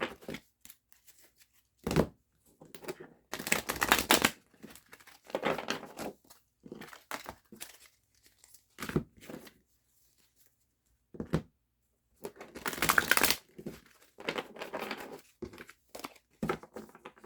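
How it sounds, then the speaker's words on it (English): Tarot cards being shuffled by hand, heard as repeated bursts of papery riffling and crinkling separated by short pauses, close and moderately loud with no talking. "Need room to shuffle these cards."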